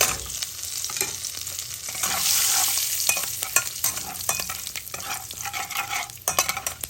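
Three dry red chillies fry in oil left over from frying hilsa fish, giving a steady, close sizzle with frequent stirring scrapes and clinks throughout.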